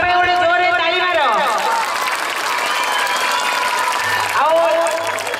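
Loud, steady clapping from a crowd at a school's golden jubilee celebration in Digapada, with music playing over it and a cheerful hubbub running throughout.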